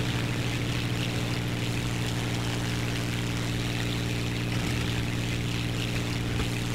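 I-16 Type 27 fighter plane engine in the War Thunder video game: a constant, loud propeller drone with a steady low hum and airy rush throughout, no talking.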